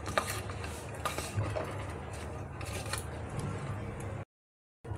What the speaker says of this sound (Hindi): बस इसको बढ़िया से मिक्स करके 5-6 मिनट के लिए रख देंगे।